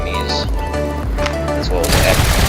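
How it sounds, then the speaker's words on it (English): Tank cannon in the Trailmakers video game firing on enemies from an assault truck, heard as loud booming blasts and gunfire-like bursts over a dense, steady game mix, building to a heavier burst near the end. "I can just like activate the tank cannon and like destroy all the enemies"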